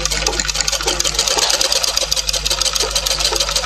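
A sewing machine runs steadily stitching the side seam of a blouse, a loud, close, rapid mechanical whir with even rhythmic needle clatter and a low motor hum.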